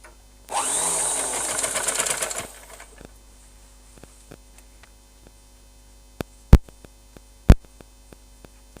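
A sewing machine runs in a short buzzing burst of about two seconds while stitching a long frock, then stops, followed by faint clicks and two sharp knocks over a low hum.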